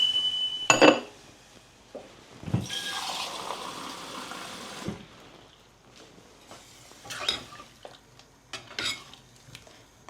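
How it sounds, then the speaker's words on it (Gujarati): Water poured into a cooking pot for ringna no olo, a smoky mashed aubergine dish, with a pouring burst mid-clip among scattered clinks of metal pots and utensils; no talk. "ચલો, ત્યાં પાણી નાખાઈ ગયું આપણે."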